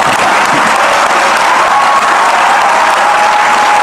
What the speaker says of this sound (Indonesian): Kok tepuk tangannya tidak bersemangat?